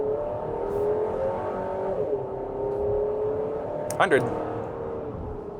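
A 2025 Buick Enclave with a 2.5-liter turbo engine accelerates toward highway speed, its engine droning steadily with a rising pitch and a brief break, while a voice speaks briefly over it.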